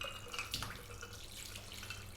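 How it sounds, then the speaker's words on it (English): Ice-cold water is poured over raw beef brains in a kitchen, a soft, faint splashing trickle with a few brief splashes, heard close with no voices. "we're going to pour ice water over this"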